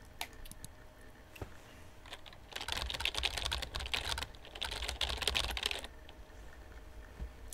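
Computer keyboard typing in the video game Emily Is Away, a steady run of quick close key clicks that swells louder in the middle stretch before easing off, with no talking over it.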